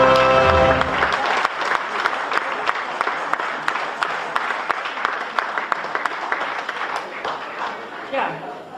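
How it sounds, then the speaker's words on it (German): Applause from an audience filling a hall at a carnival-style charity session, sustained steady clapping throughout, with a voice briefly over the start. "das ist ein schöner Applaus wert, oder?"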